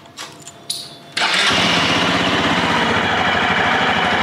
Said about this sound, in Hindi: Let's start the machine.